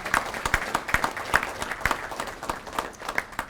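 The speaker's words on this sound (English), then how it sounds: "a nice round of applause for the Honorable Ashton Hayward" Scattered, uneven clapping from a luncheon club audience greeting Pensacola's mayor Ashton Hayward, individual sharp claps standing out rather than a dense roar, moderately loud and close, with no talk over it.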